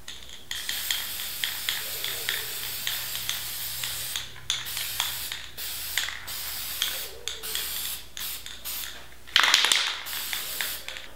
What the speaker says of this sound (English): found a couple of spray paint cans